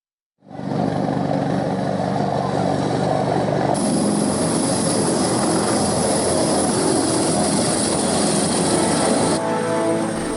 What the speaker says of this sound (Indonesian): Delapan korban bencana tanah longsor yang terjebak di Kecamatan Latimojong, Kabupaten Luwu, Sulawesi Selatan berhasil dievakuasi menggunakan helikopter milik TNI.